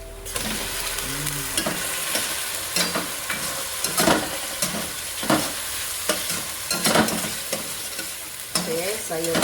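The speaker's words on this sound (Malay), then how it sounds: "kita masukkan ayam dulu ya" Chicken pieces go into a pot for chicken soup, with the broth boiling and onions already browned, giving steady sizzling bubbling broken by repeated clattering stirs close to the microphone.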